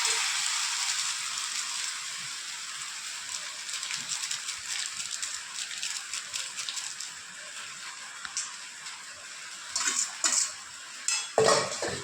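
Chowmein with egg being stirred and mixed in a pan, a soft continuous sizzle under repeated metal utensil scrapes and clinks against the pan, louder knocks toward the end.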